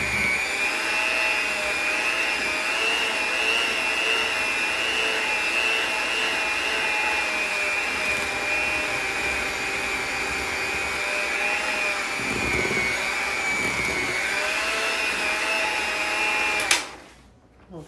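Electric hand mixer with beaters whirring through strawberry filling for a banana split pie, a steady loud motor whine lasting most of the clip before cutting off abruptly near the end.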